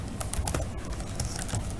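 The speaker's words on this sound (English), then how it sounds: "Now we are going to be typing here" Rapid clicking of keys on a computer keyboard, quick and slightly irregular, close by with no talking.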